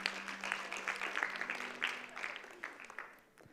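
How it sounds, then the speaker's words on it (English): Audience applause at a performance, a short spell of scattered, fairly light clapping with a low held tone underneath at first, thinning out and fading by the end. "Can we have a round of applause for that one?"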